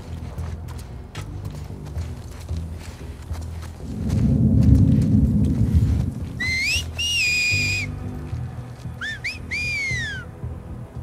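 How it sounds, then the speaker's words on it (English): A horse-calling whistle in The Last of Us Part II rings out as several rising-and-falling tones in two short bursts, following heavy hoof clip-clop and a loud scuffle in the game world. "I wonder if everyone has a different way to whistle as a form of identification."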